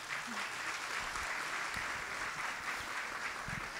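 Dense, steady applause from an audience at the International Story Festival in Zeytinburnu fills the whole stretch, a continuous wash of many hands clapping at even loudness.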